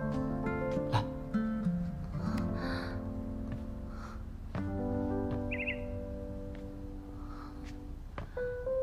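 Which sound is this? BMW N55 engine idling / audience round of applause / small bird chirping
small bird chirping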